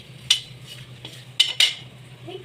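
A spoon scrapes and clinks against a metal pan while pistachios fry for homemade winter laddu, a few sharp metallic knocks over a low steady hum, close and without speech.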